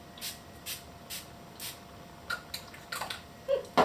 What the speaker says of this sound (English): 3-in-1 replenishing primer and setting spray